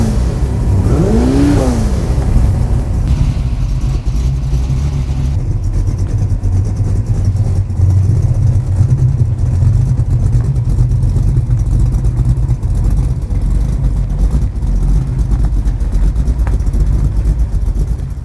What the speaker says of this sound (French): Une mélodie extraordinaire, ce bruit de V8, écoutez.